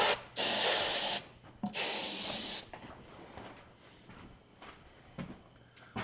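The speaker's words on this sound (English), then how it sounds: "I can arrange the air compressor part." An air compressor nozzle blows two loud, close bursts of hissing air, each about a second long, followed by quieter handling noises and faint knocks.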